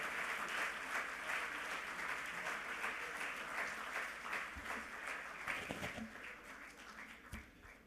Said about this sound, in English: So please, give yourself a round of applause.